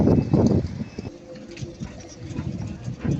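Pigeons cooing close by, a low throaty murmur that rises and falls continuously, with faint rustling around them.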